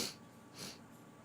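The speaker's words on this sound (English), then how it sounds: "I have the sniffle" A person with a runny nose gives two short, soft sniffles close by, a brief breathy intake at the start and another about half a second later, faint and with no talking.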